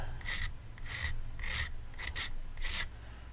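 Short rasping strokes of a file shaping a chamfer on a small plastic space shuttle model part, five or six quick close strokes with brief pauses between.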